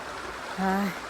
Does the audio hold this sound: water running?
yes